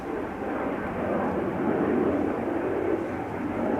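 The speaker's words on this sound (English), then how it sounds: "E2 Embraer having taken off from center." An Embraer E2 jet takes off at Amsterdam Schiphol Airport, a steady, distant broadband engine roar that swells slightly and holds without talk.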